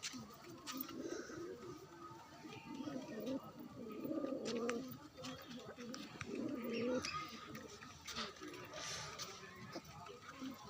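A pair of pet pigeons coo in low, soft bursts that swell and fade several times, with a person talking throughout.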